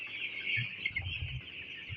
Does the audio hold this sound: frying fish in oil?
no